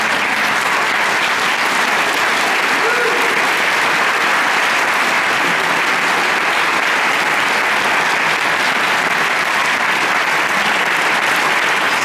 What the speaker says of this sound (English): I want a round of applause for the